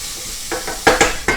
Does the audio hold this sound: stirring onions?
yes